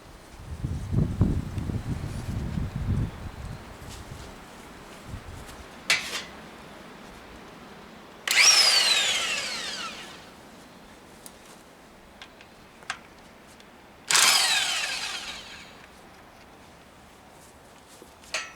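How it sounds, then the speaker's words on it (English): An impact wrench with an 11/16 socket working on bolts of a Ford 2N/9N tractor PTO shaft gives two separate loud rattling bursts, each about two seconds long, between quiet stretches with faint clicks and handling noises. "I brought my impact wrench with an 11/16 socket"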